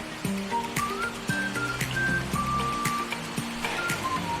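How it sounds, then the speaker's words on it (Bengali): Heavy rain pours steadily in Darjeeling beside a roadside homestay, a continuous loud wash of falling water with scattered higher chirps and faint background sounds. "এই মুহূর্তে প্রচুর বৃষ্টি হচ্ছে"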